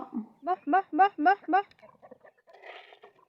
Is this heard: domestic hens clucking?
yes